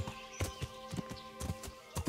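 A horse in Kingdom Come: Deliverance walking at a steady pace, with close, distinct hoof clip-clops sounding alone against quiet ambience.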